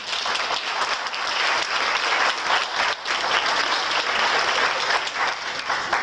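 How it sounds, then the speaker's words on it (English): Sustained, dense applause from a large keynote-address audience fills the whole six seconds, loud and steady with no speech over it. "For that, please applaud yourselves."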